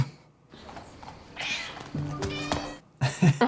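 A cat meows in a drawn-out, wavering cry, then gives a couple of sharper calls near the end, fairly close, with low background noise and faint voices around it.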